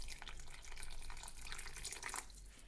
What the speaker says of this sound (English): we're going to add a bit of water. I'm doing it out of the kettle because this is still warm